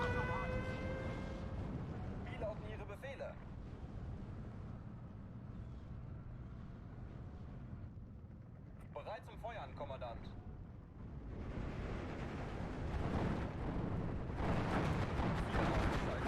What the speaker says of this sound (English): They really are going hardcore with these mortars.